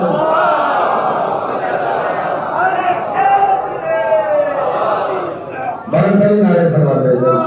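A crowded congregation at a majlis in an imambargah recites salawat aloud together, a dense, loud, continuous wash of many voices in unison that briefly dips and then swells again near the end.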